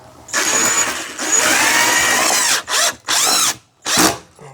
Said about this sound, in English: I'm just going to screw these into the holes here to the back, keep it in place there